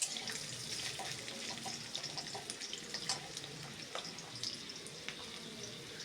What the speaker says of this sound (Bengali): সোয়াবিনের মতো সেমভাবে আলুগুলোকে লাল লাল করে আমি ভেজে নেব।